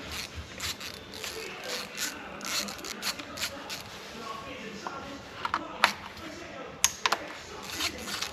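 A ratchet cracks loose T30 bolts on an Audi A5 2.0 TFSI CDNB engine during timing chain work, giving a few sharp close clicks scattered beneath ongoing talking.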